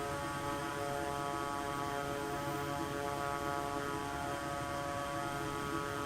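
A-10 attack jets flying in Microsoft Flight Simulator 2024, a steady dense engine drone with layered tonal hum that holds at even loudness throughout, with no voices.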